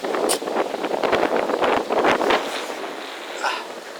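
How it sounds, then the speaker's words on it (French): Gusty wind buffets the microphone at a carp fishing spot, a steady rough rush with stronger surges throughout and no other clear sound. "Il y a du vent."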